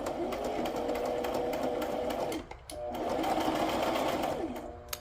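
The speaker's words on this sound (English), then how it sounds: "let's do a little zigzag stitch" Sewing machine running a zigzag stitch, a steady continuous motor whir with a brief dip midway before resuming at the same pace, fairly close and alone.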